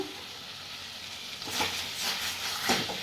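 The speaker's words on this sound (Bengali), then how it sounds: "দেখো দেখো রান্না হচ্ছে, সবে রান্না হচ্ছে" Food sizzles and fries in a home kitchen pan, a soft steady hiss that swells louder with bursts of stirring in the second half, no voices.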